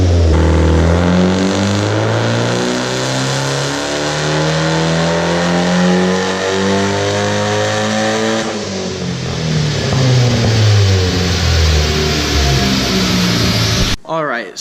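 A Ford Focus ST engine running on a 50% gasoline, 50% E85 blend revs up loudly and steadily, the pitch climbing in long sweeps, dropping and rising again through a run before cutting off abruptly at the end.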